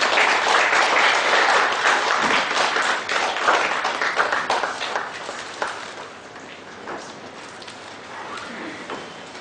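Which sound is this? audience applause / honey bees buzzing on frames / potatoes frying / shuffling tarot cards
audience applause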